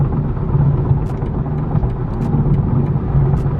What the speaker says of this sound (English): I'm barely hitting the gas and it's already accelerating pretty quickly.